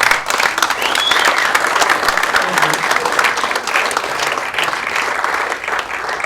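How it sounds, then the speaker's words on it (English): A seated audience at a talk bursts into a big round of applause for Nick, dense and loud, holding steady for several seconds with no break. "give Nick a big round of applause"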